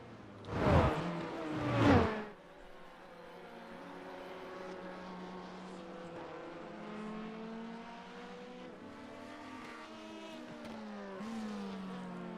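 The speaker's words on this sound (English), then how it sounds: "This is the battle on the racetrack right now, as John Nielsen pulls in a little under braking here" Sports prototype race cars, including LMP2 cars, roar past on the Barcelona circuit, two loud close passes at the start followed by sustained engine drone of cars racing further away.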